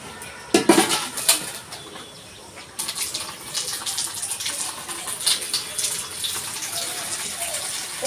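Clothes are washed by hand with water and detergent on a rooftop, with running, splashing water throughout and a louder sloshing gush near the start.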